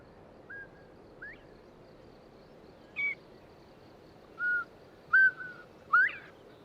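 Clear rising bobwhite quail whistles ring out alone in quiet countryside, a few single notes followed by two-part calls, moderately close.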